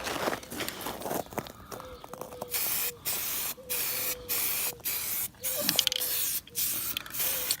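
Spray paint is applied in coats to the chrome grille slats of a Ram 1500 pickup, heard as a series of steady hissing bursts of about half a second each, separated by short pauses, close and fairly loud.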